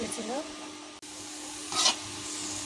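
Carrot halwa being stirred in a pan after sugar has gone in, with soft scraping and a faint sizzle of liquid cooking down, plus one brief louder scrape near the end.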